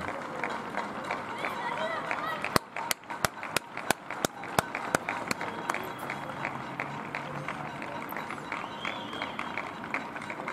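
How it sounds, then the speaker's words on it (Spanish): Neighbours applauding doctors and nurses from balconies during the coronavirus lockdown: distant, diffuse clapping spread across the surroundings, with a run of sharp, close claps partway through and a voice talking throughout. "Aquí la gente aplaudiendo."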